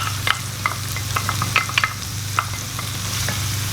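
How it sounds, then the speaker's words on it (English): Shallots cook in butter in a pan for keto beef stroganoff, a loud steady sizzle over a low hum, with repeated spatula stirring scrapes and taps. "we'll add in our shallots. And we're just going to cook those for a couple of minutes"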